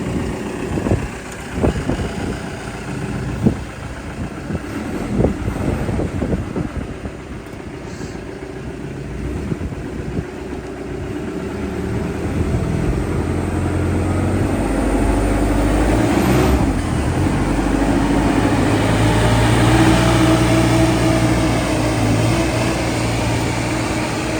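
A construction machine at a house building site drives around, a low diesel engine rumble growing steadily louder and closer after some clanks and knocks in the first seconds.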